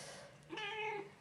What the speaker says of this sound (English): We are met by 2 lovely kittens.